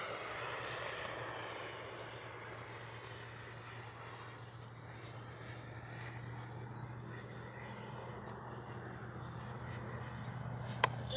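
An Arrows RC F-15 twin 64mm EDF model jet flies past, giving a steady, moderately distant whooshing turbine-like drone with a low hum underneath, constant throughout with no talk.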